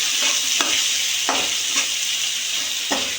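Chopped onion frying in a pan with a steady broadband sizzle, stirred throughout by a utensil whose scrapes and taps land every half second or so; close and continuous, with no talking.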